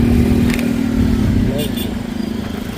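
An Apache RTR motorcycle engine hums and revs nearby under throttle, a steady mid-pitched drone with slight rises, while a person talks over it.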